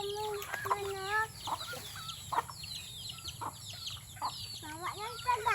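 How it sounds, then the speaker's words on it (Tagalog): Chickens on a rural hillside farm cluck and call repeatedly, several birds overlapping at close to moderate distance, with a steady low background murmur and no talk. "Oh, ang daming manok."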